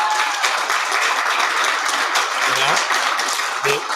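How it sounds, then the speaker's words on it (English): Audience applause for panel host Cynthia Hughes at a political panel discussion, a steady dense clapping wash lasting throughout with a few voices mixed in. "Round of applause for Cynthia."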